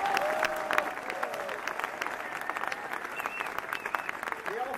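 An audience applauds continuously at the inauguration of Geneva's Musée d'Ethnographie, a dense and even wash of many hands clapping for several seconds with faint voices mixed in.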